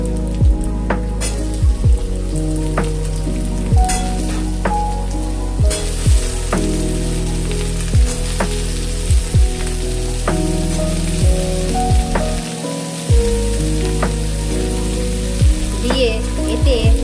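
Onions that have browned in a pan get a batch of cut potatoes, a constant hiss of oil with sharp clicks and scrapes from stirring, close and steady throughout.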